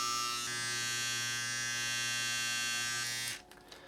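Nano tattoo machine running at setting 8.5 gives off a steady, aggressive electric buzz, close and even for about three seconds before it cuts off abruptly.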